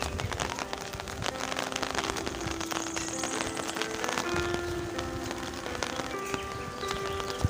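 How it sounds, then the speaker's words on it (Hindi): Light drizzling rain falls in a hilly valley, a dense steady patter of drops on surfaces that stays close and continuous, with no one speaking. "देखिए रिमझिम फुहार।"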